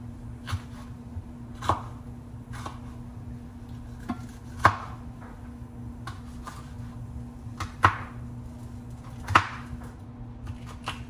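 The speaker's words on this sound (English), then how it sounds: "Chopping up vegetables." Knife chopping vegetables, including peppers, on a cutting board in a home kitchen: sharp, close taps spaced a second or two apart, some louder than others, over a steady low hum.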